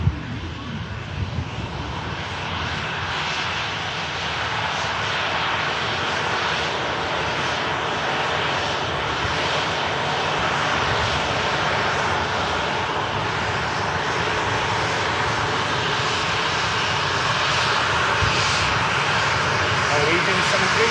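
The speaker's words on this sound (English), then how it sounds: "Glimpse of a Virgin Atlantic A330 on the taxi out now." Virgin Atlantic Airbus A330 jet taxiing out at an airport, a steady continuous engine roar heard from a distance, with people talking over it.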